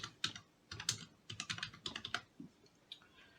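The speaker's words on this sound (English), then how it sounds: "if I can type" Keys clatter on a computer keyboard in quick, uneven bursts of close, light clicks, with no voice heard.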